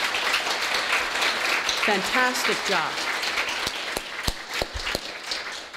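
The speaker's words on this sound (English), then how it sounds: "please give them another round of applause" An audience applauds staff members at a welcome event, the clapping steady at first and thinning to scattered claps, while a voice speaks briefly over it.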